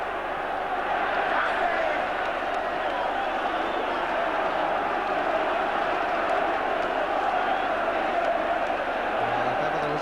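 A large football crowd massed at the Gallagher end, a broad continuous roar and murmur of many voices holding steady throughout, with no single shout standing out.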